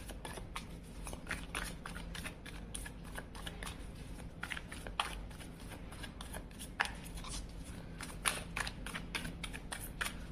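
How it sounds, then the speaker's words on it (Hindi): Tarot cards shuffled by hand in a continuous stream of crisp riffling flicks and soft slaps, close and fairly quiet, with no talking over it. "चलिए कार्ड शफल करते हैं"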